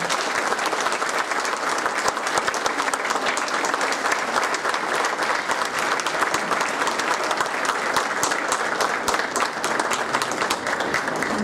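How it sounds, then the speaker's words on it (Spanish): Loud, sustained applause from a large crowd at a municipal fiesta event in Cadereyta, Nuevo León, a thick unbroken roar of clapping that holds steady throughout with no voices over it. "un fuerte aplauso."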